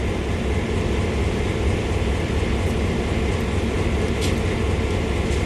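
A GP38/GP40 diesel locomotive idling in Train Sim World, its engine giving a steady, loud, unbroken rumble that fills the scene, with no talking.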